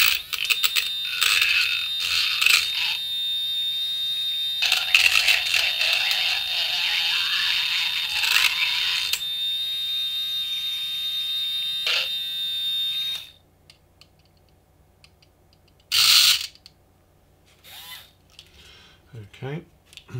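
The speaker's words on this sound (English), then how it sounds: "We're going to come in here with a mixer." A small electric mixer stirs silver model paint for a Meng P-51D kit, giving a high, steady buzzing whine for about thirteen seconds, then it stops, leaving a brief burst and faint handling sounds.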